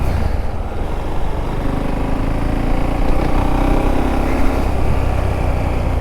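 The single-cylinder engine of a 2019 Husqvarna Svartpilen 701 motorcycle rumbles steadily up close after starting, loud and continuous, with no voices.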